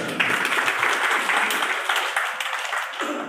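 Audience applause at a Punjabi song release event, a dense, steady burst of many hands clapping close by for about three seconds.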